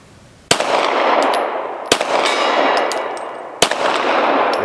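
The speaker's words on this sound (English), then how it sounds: "Let me shoot at that" Three loud rifle shots fired at a steel ram target 70 yards away, each a sharp crack followed by a long rolling echo, with faint metallic rings of the steel being struck after the shots.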